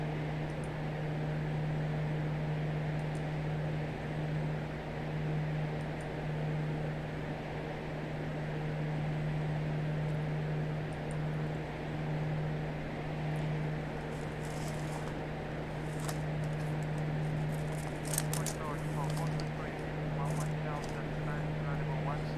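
An aircraft engine in a flight simulator drones with a steady, even hum that runs unbroken throughout, accompanied by a faint background tone, while someone talks quietly over it.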